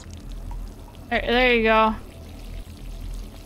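In an indie horror video game, water pours onto plants for about a second, a gurgling stream whose pitch rises as it flows. A person talks before and after it.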